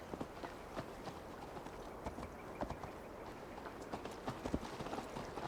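A horse's hooves clip-clop at a steady walking-to-trotting pace while riding in Assassin's Creed Valhalla, close and clear over a soft background bed.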